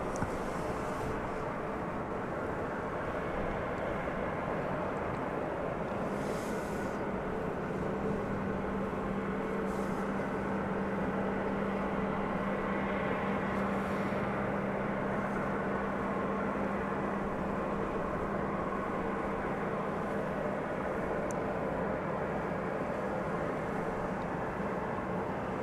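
A UPS Boeing 747 departs from runway 18 left at DFW at night, its engines giving a steady, distant roar that swells slightly and persists without pause.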